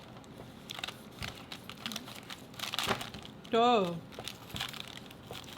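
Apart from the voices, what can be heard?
cutting a homemade Chick-fil-A sandwich in half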